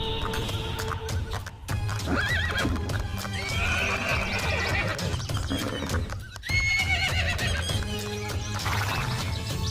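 A horse in a cartoon neighs and whinnies several times over steady clip-clopping hooves. The scene is loud and busy, with layered effects and music-like tones throughout.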